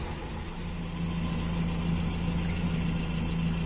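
A motorcycle engine idles after its FMT carburetor was repaired and its very sensitive air-mixture screw adjusted, producing a steady, close drone with a constant low throb and no voices.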